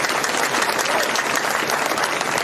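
Dense, steady applause from a large crowd at an outdoor election rally in Haryana, sustained and loud throughout with no pause.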